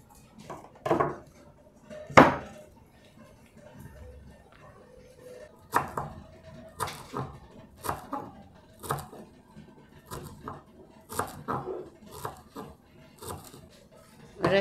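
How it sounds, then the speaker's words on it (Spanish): A knife chops cilantro on a board in an irregular series of crisp, close taps, with a louder knock near the start. "ahora voy a picar cilantro"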